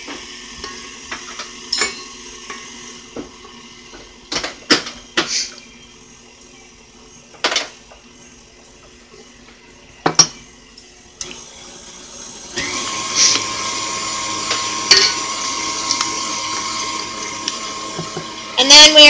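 An electric mixer beating banana bread batter as eggs are added one at a time, starting with scattered clinks and short bursts, then settling into a steady, high whirring hum for the last several seconds, near and fairly loud.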